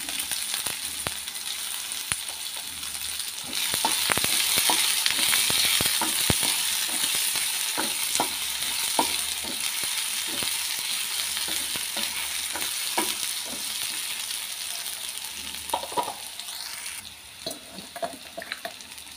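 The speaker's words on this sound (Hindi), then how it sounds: "तो इसमें सबसे पहले हम ज़ीरा और राई डाल देंगे और इसके बाद प्याज डाल देंगे इसे होने देंगे" Cumin, mustard seeds and onion fry in hot oil in a pan, a continuous close sizzle that swells after a few seconds, with scattered sharp pops and clinks of a spoon against the pan, no voices.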